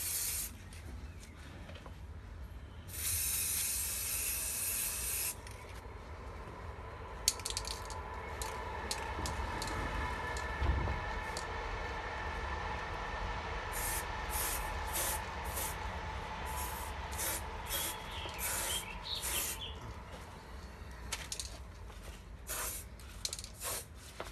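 Metallic reactive paint sprays onto a fiberglass Roman relief panel in repeated hissing bursts, some long and some short and choppy, fairly close and alone.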